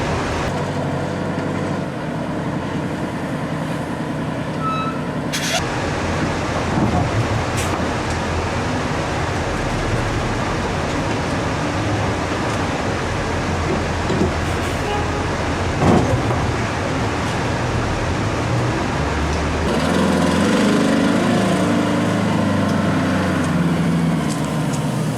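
A 1982 MCI MC9 tour bus idles and rumbles steadily as it turns and backs up, its engine drone continuous and close with a short hiss and a shift in tone near the end.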